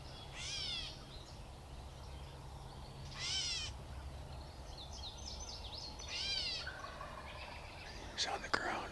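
A wild turkey tom gobbles three times at moderate distance outdoors, each rolling burst standing out clearly over steady low rumble and faint background birds, with a sharp knock near the end.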